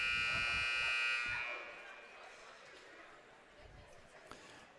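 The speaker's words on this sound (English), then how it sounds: "there is the buzzer" A loud, sustained arena buzzer sounds at an ice hockey game between the QC Blues and Sioux City Metros varsity teams, holding steady for over a second before cutting off into crowd murmur and rink noise.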